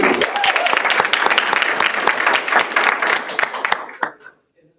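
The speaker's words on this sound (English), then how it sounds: "Give Tish a round of applause" Audience at a community town hall breaks into lively applause with sharp individual claps, sustained for about four seconds before tapering off quickly into silence.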